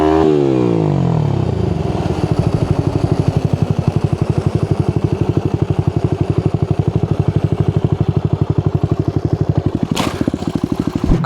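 A motorcycle used for wheelie practice runs nearby with a rapid, rhythmic, pulsing engine note that stays fairly even throughout, with a brief sharp noise near the end.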